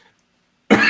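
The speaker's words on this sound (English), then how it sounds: "why I'm coughing today" A single short, sharp cough bursts out abruptly after near silence, close and loud.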